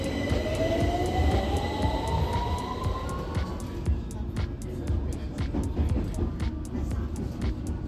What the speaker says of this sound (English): Find the gap between the train and the platform.